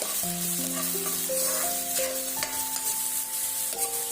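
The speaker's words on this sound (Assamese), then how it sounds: "পিঁয়াজখিনি ভালদৰে ফ্ৰাই কৰিব" Onions stir-fry in a pan for paneer tikka masala, a steady close sizzle with a spatula scraping and stirring throughout, over a sustained musical tone in the background.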